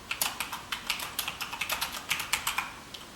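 Fingers type on a computer keyboard at a steady, brisk pace, a run of close, crisp key clicks with no one talking.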